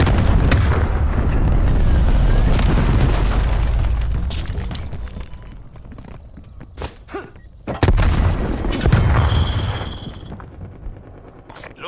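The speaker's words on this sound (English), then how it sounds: "Enemy cruise missile launch detected." Cruise missile strikes in Call of Duty: Black Ops Cold War land as loud, heavy booming blasts that rumble continuously for several seconds, then fade. A couple of sharper bangs follow in the later part.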